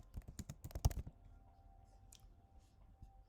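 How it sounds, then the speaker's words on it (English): Rapid burst of keystrokes on a computer keyboard, a quick run of close clicks that stops after about a second, followed by a quiet room with faint hum. "I'll type it in up here."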